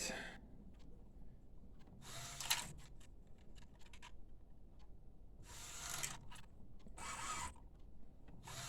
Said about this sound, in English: the printer went to the head cleaning